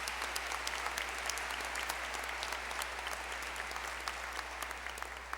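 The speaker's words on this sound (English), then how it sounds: "Please join me in giving these folks a round of applause." Sustained applause from a large audience at a high school graduation ceremony honoring school officials, a dense, even patter of many clapping hands held steady throughout with no voices rising above it.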